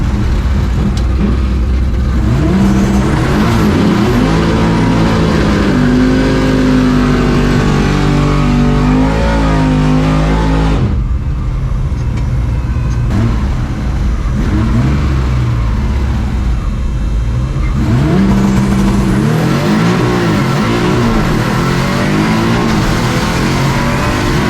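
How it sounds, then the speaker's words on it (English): Massive-tired drag race cars launch and accelerate hard, engines roaring loud and close with rising pitch sweeps, a brief lull mid-run, then another car screaming away. "Drag racing with the big boys"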